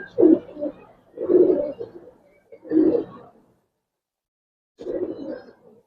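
Racer and Giribaz pigeons coo in four low, throaty bursts at close range, each about a second long, with short gaps and a longer pause before the last.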